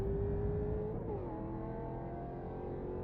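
Porsche GT3 Cup race cars in a racing game sim at Laguna Seca hold a steady engine drone, with a tone dropping as the revs shift mid-way, loud and continuous with no talking.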